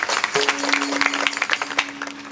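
Audience applause at a live Marathi kirtan: a dense, continuous burst of clapping from a crowd over a steady sustained drone tone, lasting a couple of seconds without pause.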